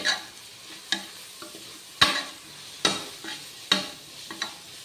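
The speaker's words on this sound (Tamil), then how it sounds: "இது கொஞ்சம் நல்லா வதங்கட்டும்" Onions sautéing in oil for a meal maker pulao, stirred in a pan: a low sizzle punctuated by about five sharp, evenly spaced scraping strokes of a spoon, close and clear, no talking.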